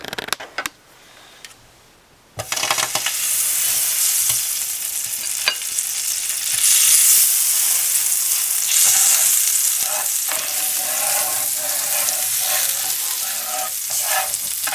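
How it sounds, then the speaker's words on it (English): Butter sizzling and frying on a hot griddle before buttermilk gingerbread pancakes are cooked, a steady loud crackle that starts abruptly after a quiet moment and continues throughout with occasional scraping clicks. "first I need to add my butter, some butter to the griddle"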